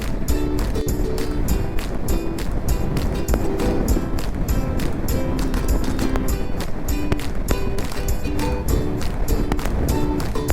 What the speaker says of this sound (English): Crosswind is beating me.